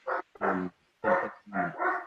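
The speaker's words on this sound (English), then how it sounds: "you may hear my dogs barking in the background" A few short barks in quick succession, fairly loud and close, with brief pauses between bursts.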